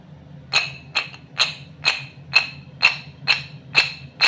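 A series of eight crisp cracking snaps at a steady pace as hard, brittle sohan halwa pieces are broken apart close up, with no voices.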